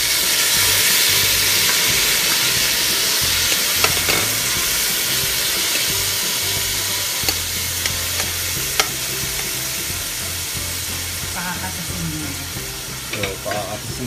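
Tomatoes sauté with pork in a pan for a Filipino pork binagoongan, a loud, dense sizzle and hiss that fades slightly over time, with occasional stirring clinks.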